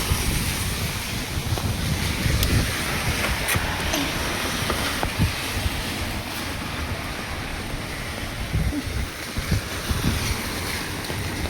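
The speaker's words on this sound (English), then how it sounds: "The wind and rain rolled in out of nowhere all at once." Strong typhoon wind buffets and roars continuously with the hiss of rain, a steady loud wash of noise without pause.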